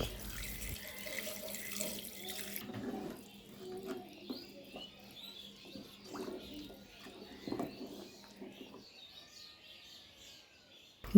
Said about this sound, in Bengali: এখন আমি দিয়ে দিচ্ছি পরিমাণ মতো পানি